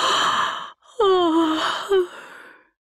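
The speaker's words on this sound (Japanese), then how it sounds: "おっきなあくび" A big, drawn-out yawn from a voice, an inhale then a long sliding, falling exhale with a short tail at the end, close and clear against silence.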